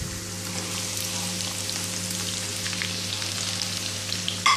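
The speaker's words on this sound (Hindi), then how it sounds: "और थोड़ी सी रेडिश होने तक हम उसको फ्राई करेंगे ऑनियन को" Finely chopped onion with green chilies, mustard seeds and cumin fries in hot oil for methi dal, a dense, steady, close sizzle with a soft hum underneath and a brief clatter at the end.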